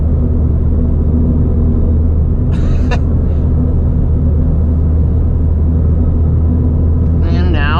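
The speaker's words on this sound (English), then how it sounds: "You get to hear the raw horsepower of this car right now." A Ford Fiesta ST engine drives along a backroad at night, with a steady, loud, low rumble that runs unbroken through the whole stretch.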